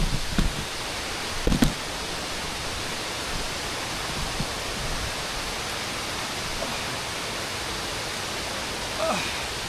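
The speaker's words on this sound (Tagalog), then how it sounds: "Ay na yung waterfall." Cagbuanga waterfall in El Nido, Palawan, gives a constant broadband rush of falling water heard from nearby. A few short knocks come near the start, and no one speaks.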